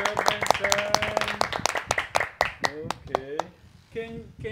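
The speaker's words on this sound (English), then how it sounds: "Can you clap your hands so my son?" A child claps hands several times in quick, uneven bursts, close by, with voices talking over and between the claps.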